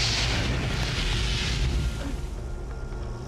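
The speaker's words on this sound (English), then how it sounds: "A spark suddenly ignites the escaping gas, and an explosion rips through the rig." A gas explosion tears through an offshore oil rig as escaping gas ignites: a loud, dense, low roaring rumble that holds steady, then eases slightly into a lingering, fainter rumble.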